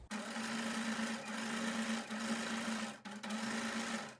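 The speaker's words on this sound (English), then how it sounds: "So I'm just pushing the folds down as I'm sewing." Sewing machine running steadily as it stitches folded tucks into fabric, a close, even mechanical whir with a strong steady hum, pausing briefly twice before resuming.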